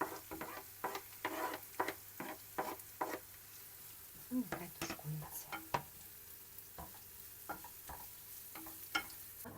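Soft sizzling and stirring as hake stews in a pan with onion, with occasional clicks of a utensil against the pan, quiet and close.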